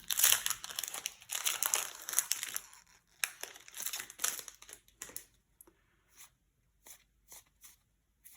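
A foil Flesh and Blood Monarch booster pack gets opened up close: loud crinkling and crunching of the wrapper for several seconds, then a few softer scattered rustles and taps as handling slows.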